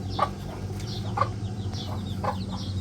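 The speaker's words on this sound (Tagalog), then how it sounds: "Ang daming manok." Several chickens clucking in short, repeated bursts over a steady low hum, like a busy coop nearby.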